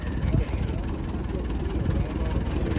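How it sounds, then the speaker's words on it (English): At a vintage car show, a truck engine idles with a low, steady rumble under outdoor crowd noise while a person talks nearby. "car that's just idling."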